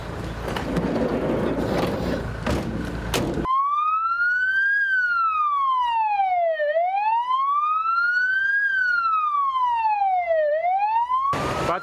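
Ambulance siren wailing loudly in a long rising-and-falling sweep close by during an emergency drill, preceded by a burst of broadband noise and with no talk.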